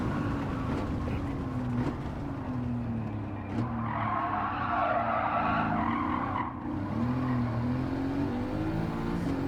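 Sports car, an AMG GT or C7 Corvette with a transaxle, braking hard into a corner, engine tone dropping while tires squeal and skid in a loud, rising screech mid-run before power returns.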